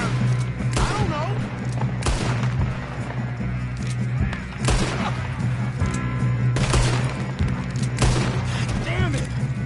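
Gunfire in a PS4 video game, with repeated bursts of shots over a steady hum and game voices talking throughout.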